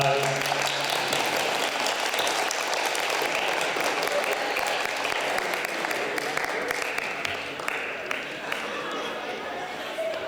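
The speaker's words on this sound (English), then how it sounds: "Come on up to the stage and let's give them a round of applause." A school audience applauds students called up to the stage at a literacy celebration at an international school in northern Japan, with steady dense clapping filling the room for the whole stretch and a faint murmur of voices underneath.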